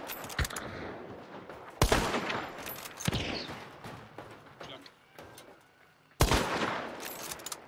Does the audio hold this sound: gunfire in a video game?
yes